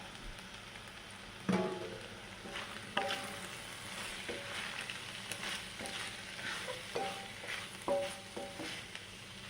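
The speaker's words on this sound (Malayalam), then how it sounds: "അപ്പോൾ ഇതിന് നമുക്ക് നന്നായിട്ടൊന്ന് മിക്സ് ആക്കി എടുക്കാം" Boiled egg is mixed with turmeric, chilli and pepper powder, producing faint, intermittent scraping and stirring scuffs with soft clinks at an uneven pace over a low background hiss, with no one speaking.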